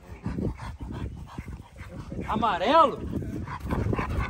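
Several dogs in a kennel, including pit bulls, bark and yelp excitedly nearby, one letting out a high rising yelp, while a person talks over the commotion.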